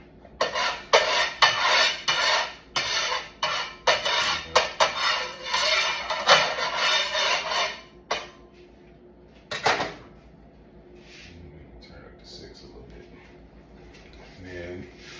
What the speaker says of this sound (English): My trusty spatula.